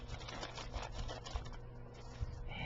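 Crisp paper for a handmade botanical journal is handled nearby, making soft rustles and crinkles with light, irregular taps and ticks, with no speech.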